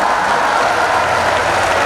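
Audience at a Hindi comedy poetry show breaking into steady, dense applause, a continuous wash of many hands clapping loudly with no voices over it.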